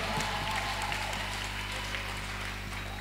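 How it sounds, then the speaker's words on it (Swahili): Wedding guests clap for the groom, a soft, steady patter of applause heard from a distance over a low electrical hum. "Makofi kwake."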